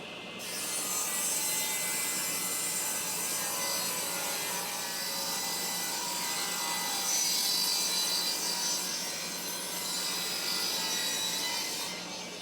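A saw cuts 1 inch wood strips for a garden trellis, a continuous loud rasping whine through the wood that runs steadily, rising and falling a little before stopping abruptly.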